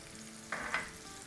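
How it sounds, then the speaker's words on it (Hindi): Cumin seeds and turmeric hit 2-3 tablespoons of hot oil, a short soft sizzle flaring up halfway through a quiet moment, with no talking. "अब इसमें हम थोड़ा सा ऑयल डालेंगे, तकरीबन 2-3 टेबलस्पून ऑयल डालेंगे, और इसमें हम डाल देंगे 1 टीस्पून ज़ीरा और आधा टीस्पून हल्दी।"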